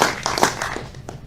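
An audience applauds a speaker at an economics lecture. The clapping is brief and fairly close, with scattered hand claps fading out within a second or so.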